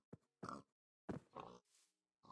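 Pigs in Minecraft give several short grunts and oinks, separate snorting bursts spaced irregularly across a couple of seconds, close and clear against silence.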